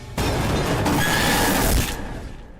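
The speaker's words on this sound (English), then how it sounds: "I'm gonna play the jump scare right now." A sudden loud, harsh burst of screeching noise from a Poppy Playtime jump scare hits at once, sustains for over a second, then fades quickly.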